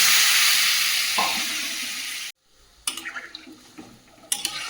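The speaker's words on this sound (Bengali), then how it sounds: "ভালো করে কষিয়ে নিয়েছি, জলটা দিয়ে দেবো।" A curry in a pan sizzles loudly and steadily, then cuts off abruptly as water goes in, followed by softer bubbling and a few clattering stirs.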